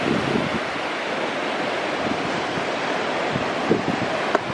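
Pacific Ocean waves and surf on the California coast, a steady wash of breaking water mixed with wind buffeting the microphone, with no voices.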